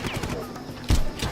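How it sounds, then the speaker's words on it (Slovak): Explosion in the video game Far Cry 1, a short heavy boom bursting in mid-way and followed by a second smaller thump, over quieter game noise. "Výbuch!"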